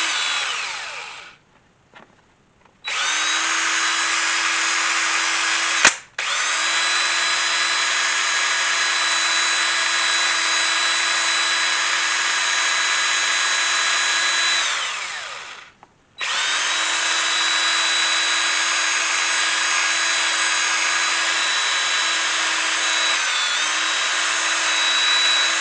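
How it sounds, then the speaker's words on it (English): A drill spins to power-burnish a leather edge. Its high, steady whine runs in long bursts and cuts off sharply twice, at short pauses. "You might be able to see that burnishing actually come to life as I'm doing it right there."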